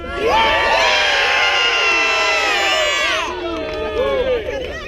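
A crowd at an SCA armored fighting demonstration at a Renaissance faire cheers and shouts loudly, with many overlapping voices and children's whoops that dip briefly before swelling again.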